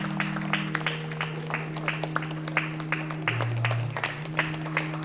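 A Methodist church congregation gives a steady round of applause at a Sunday morning service, with crisp claps throughout over a sustained organ or keyboard tone that shifts pitch midway.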